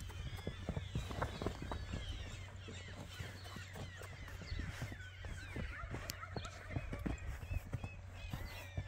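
A blue roan overo horse, a quiet ranch horse, sets off and runs, its hooves clip-clopping in quick, uneven beats at a moderate distance over steady low background hum.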